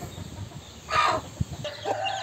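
A white brooding hen clucks in a farm pen, with soft, scattered clucks close by and a brief louder burst partway through.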